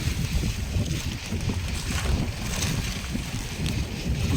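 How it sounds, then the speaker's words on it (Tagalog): Strong southwest monsoon wind buffets the microphone in continuous low rumbling gusts, loud and unbroken, with no voices. "Mahangin pa rin ang habagat."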